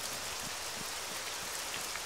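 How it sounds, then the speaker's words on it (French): Steady rain falling in the survival video game Breaking Point, a dense continuous hiss of drops with faint patters on surfaces, even and uninterrupted with no talk. "Ah là, c'est une bonne pluie là qui tombe là."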